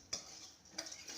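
Roasted gram being stirred in ghee in a pan, with a few quiet scraping and clinking strokes of a spoon against the metal over a faint background, no speech.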